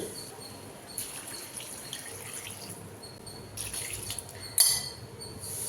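Water is poured into a pot of vegetable curry for a fried-vegetable kuzhambu, with a low, steady trickle and a few sharper splashes and clinks of metal or glass.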